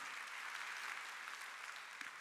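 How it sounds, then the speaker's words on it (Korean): A church congregation at a Sunday worship service applauds to give glory to God, a steady, even wash of clapping that stays at a constant level throughout, with no speech over it. "박수로 하나님께 영광 돌려서,"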